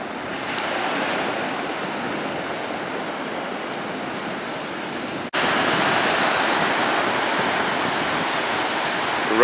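Sea waves wash and rush steadily along a beach, a broad continuous roar with wind buffeting the microphone and no voices.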